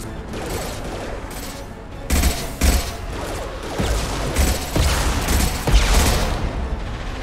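Gunfire in the Mass Effect 2 video game: dense, continuous rapid bursts of shots with heavier booming impacts, loud and close, with no talk over them.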